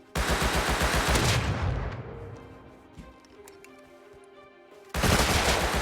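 Video game gunfire: a loud burst of rapid automatic shots, a quieter stretch with faint clicks and tones, then another close, loud burst of rapid fire.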